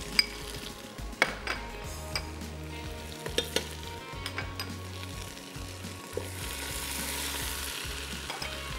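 Garlic ginger paste and ground green chillies fry in a pan with steady sizzling and scattered clinks of a utensil stirring, at close range and with no speech.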